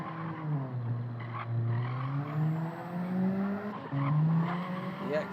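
Race car engine in a retro racing video game, revving hard with rising and falling harmonic pitch sweeps, continuous and fairly loud, with brief tire-squeal-like accents and no talking.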